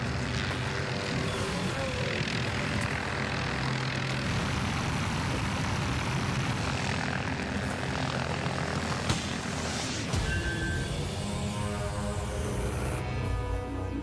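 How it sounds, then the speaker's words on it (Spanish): A loud, continuous helicopter engine roar with rotor throbbing runs throughout, fairly close, briefly shifting in tone near the end. "desde un helicóptero"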